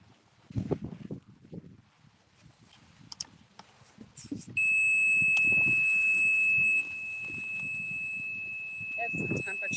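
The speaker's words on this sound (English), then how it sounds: "It's this temperature gauge that keeps going off." A temperature gauge alarm sounds a high, steady electronic tone that holds for several seconds, first loud and then a little softer. Voices and footsteps move around it in a quiet room.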